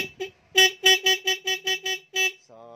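A stock motorcycle horn honks about nine times in a quick, even series of short, loud, close blasts, then falls silent.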